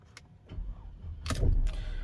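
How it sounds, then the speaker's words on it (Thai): A Mercedes-Benz W204 is started with the key after a repair to its electric steering lock: a few faint clicks, then a burst of cranking that settles into a low, steady engine rumble close by, with no talking. "สตาร์ตติดใช้งานได้เหมือนเดิมนะครับ"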